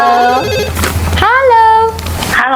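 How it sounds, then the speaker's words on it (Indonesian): A telephone rings loudly and close by, with repeated electronic ringtone bursts over studio background sound. "Mungkin terima telepon dulu."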